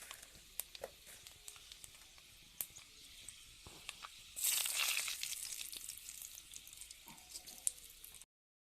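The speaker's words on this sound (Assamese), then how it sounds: "তেল গৰম হ'ল, মই এতিয়া দুটামান মিঠি গুটি দি দিম" Fenugreek seeds hit hot oil with a brief burst of sizzling, surrounded by faint scattered crackles and pops in a quiet kitchen.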